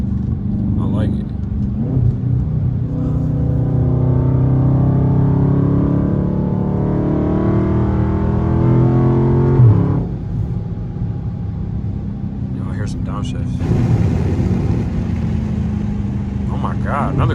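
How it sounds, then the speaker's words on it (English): Dodge Scat Pack in track mode driven at night: a loud, close exhaust rumble that rises and falls with revving, broken by a few sharp crackling pops near the start and end. "That's the thing about track mode. Your car pops a lot."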